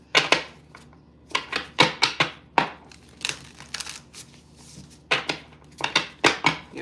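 Tarot cards are shuffled close up in quick, papery riffling bursts, separated by short pauses.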